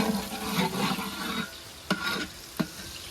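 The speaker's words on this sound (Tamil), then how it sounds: "உள்ள உள்ளி உள்ளி நல்லா வதக்கிட்டு இருக்கோம் பொடி உள்ளியை போட்டு" Chopped garlic frying with curry leaves in a pan for an outdoor mutton feast, a dense sizzle with stirring scrapes that eases off, then two sharp utensil knocks, no talk.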